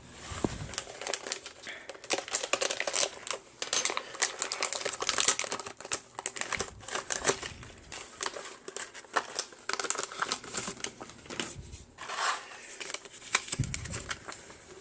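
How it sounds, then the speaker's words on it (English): Plastic toy packaging for Re-Ment posable skeleton figures being cut and pried open with a knife, giving a busy run of crinkling, ticking and snapping plastic sounds close by with no talking. "Let me get a knife here and open these up."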